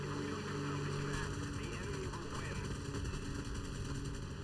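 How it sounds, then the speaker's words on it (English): Aircraft cannons fire in War Thunder in a dense, continuous rattling burst, loud and close, over engine roar, with regular rapid pulses lasting the whole stretch. "I'll be able to have a shot at the BV's wing with a cannon."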